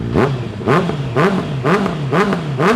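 Honda CBR650R four-cylinder motorcycle, a 2019 bike fitted with a real carbon aftermarket exhaust, blipped repeatedly at idle: five or six quick, sharp revs rise and drop back in a steady rhythm, loud and close with no talking.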